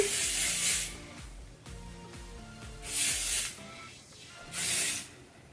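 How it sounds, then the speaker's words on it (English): Three separate hissing bursts of hairspray from an aerosol can, close and fairly loud, with quiet handling noise between sprays. "All right, we're gonna spray again."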